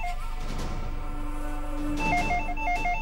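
A telephone rings with an electronic trilling tone that warbles between pitches, fairly loud over a steady low hum.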